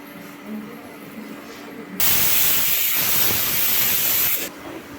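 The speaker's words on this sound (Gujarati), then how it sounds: "તેલ આપણું ગરમ થઈ ગયું છે ફાફડા તરવા માટે રેડી છે તેલમાં ફાફડાને એડ કરીશું" Fafda, the Gujarati gram-flour snack, drops into hot oil and sets off a sudden loud, broad sizzling hiss that holds steady for a couple of seconds before dropping back to a quieter bubbling.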